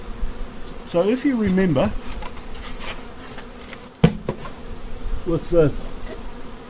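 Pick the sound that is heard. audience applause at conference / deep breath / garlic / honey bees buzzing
honey bees buzzing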